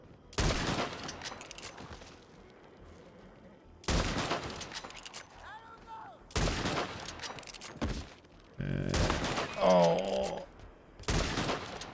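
Gunshots in Red Dead Redemption 2, five separate loud volleys of rapid shots spaced a few seconds apart, with quiet gaps between them and a brief whistling game sound near one burst.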